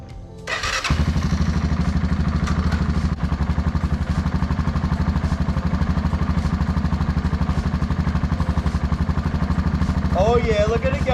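Honda 300 ATV engine fitted with a Polaris selectable diff lock runs at a steady idle after a brief start-up burst, its drivetrain whirring along. The clatter stays close and constant, and a voice speaks briefly near the end.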